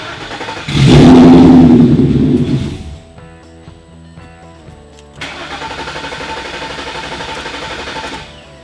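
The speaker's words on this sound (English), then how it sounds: "start the car, let it run or until it runs out of fuel pressure and dies" A car engine cranks and fires up loudly, runs roughly, cuts out, then restarts and idles steadily while residual fuel pressure is being drained from the rail during a fuel swap.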